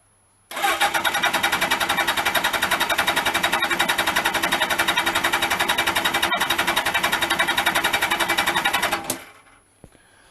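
A Suzuki GS1000 motorcycle engine cranks on the starter at full throttle during a compression test, a loud, fast, even rhythmic churning that runs steadily for about eight seconds and then stops abruptly.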